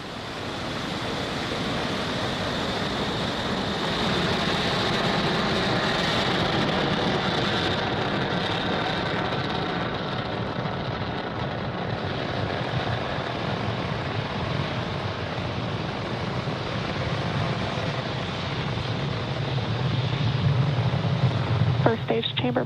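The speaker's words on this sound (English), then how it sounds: "Ignition and liftoff." Roaring, broadband rumble of a SpaceX Falcon 9 rocket at ignition and liftoff, a sustained loud wash of noise that swells and holds, with a voice talking over it.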